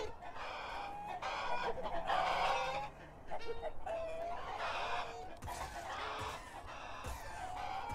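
A flock of chickens in a video game battle against an elephant, with repeated loud clucks and squawks overlapping in quick bursts against a busy background of game sounds.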